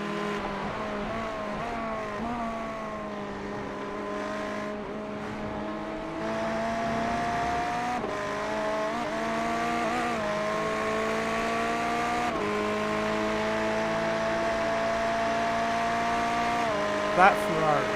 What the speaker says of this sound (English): That Ferrari is so loud when they're following you.